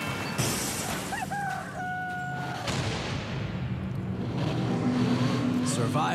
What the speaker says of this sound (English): And then crash into traffic, of course.